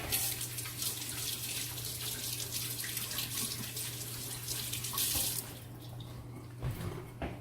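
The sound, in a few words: washing hands under running tap water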